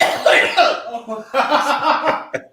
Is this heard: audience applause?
no